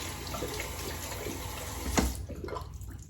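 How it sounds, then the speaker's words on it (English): A synthetic-knot Simpson Trafalgar T2 shaving brush is rinsed under a running tap, a steady close splash of water with a brief louder gush near the end. "I have plenty of time to rinse the brush"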